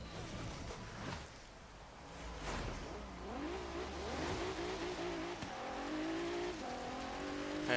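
A 2014 Maserati Ghibli S Q4 with a V6 engine revs and accelerates in Forza Horizon 3, off-road, the engine note rising and falling through shifts with a whooshing pass and no talking.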